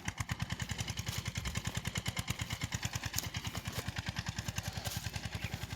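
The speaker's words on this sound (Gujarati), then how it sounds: "હા, ટ્રેક્ટર હાલું જાય છે." A tractor engine runs nearby in a millet field with a steady rapid chugging beat, moderately loud and unbroken for the whole stretch, with no talking.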